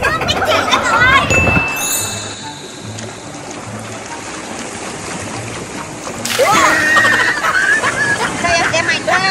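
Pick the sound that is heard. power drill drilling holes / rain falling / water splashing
water splashing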